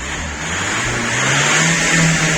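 Car engine revved hard up close, a loud continuous roar that climbs in pitch and intensity across the short burst, with no voices over it.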